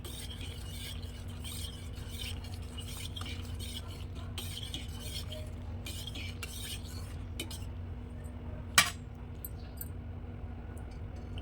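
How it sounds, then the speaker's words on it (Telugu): A spoon clinks and swirls steadily in a glass, stirring honey into water, with one sharper clink near the end, over a constant low hum. "దాని తర్వాత కలుపుకోవాలి మిక్స్ అయ్యే వరకు ఆ తేనె"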